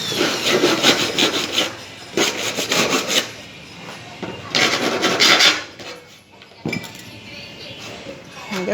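A file rasps in bursts of quick back-and-forth strokes across the freshly machine-cut edge of an aluminium door profile, close and fairly loud, with short pauses and an occasional metallic clink.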